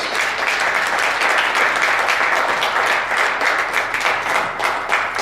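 A church congregation applauds steadily, a dense wash of many hands clapping together for the full five seconds at a fairly loud, even level, with no break.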